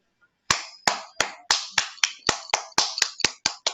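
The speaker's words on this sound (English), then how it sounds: "With a big round of applause, please welcome our table topic master" Close, sharp handclaps at a Toastmasters club meeting, a steady rhythmic run of about a dozen evenly spaced claps starting after a brief silence, sounding like one or a few clappers rather than a full crowd.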